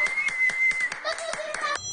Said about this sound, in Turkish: Korona savaşçılarını ayakta alkışladı.